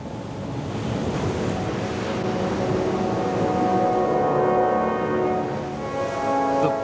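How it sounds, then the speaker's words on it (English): Ocean waves surge and break continuously along a British coastline, a steady loud roar of surf with wind rushing across the microphone, heard alone without voices. "The power of the waves, dangerous, destructive, a threat to man."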